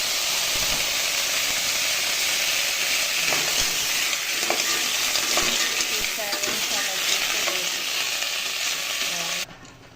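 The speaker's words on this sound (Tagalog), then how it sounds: "Sabay-sabay ko na yan nilaglag yung bawang, sibuyas, luya" Garlic, onion and ginger sizzle steadily in hot oil as they are sautéed for a clam soup, with intermittent stirring scrapes and clicks over the continuous frying hiss.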